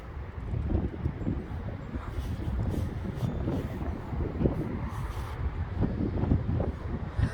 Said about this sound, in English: I guess the wind just pushed me forward.